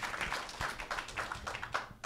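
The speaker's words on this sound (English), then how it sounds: "Just a round of applause" Audience applause at a festival Q&A panel, a short burst of dense clapping from a crowd, fairly close and steady for about two seconds.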